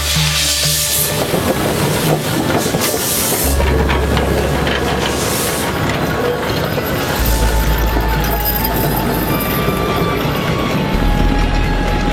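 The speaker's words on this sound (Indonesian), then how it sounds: "kami bisa menikmati perjalanan menaiki kereta uap ikonik" An iconic steam train on the move, with steady rumbling wheels and clatter on the rails, hissing steam and a few metallic bangs, loud and close throughout with no talking.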